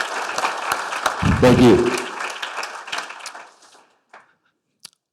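Applause at a city State of the City address for fire department staff and firefighters, a burst of clapping under a man's brief spoken thanks, fading out after about three seconds to near silence with a few last claps.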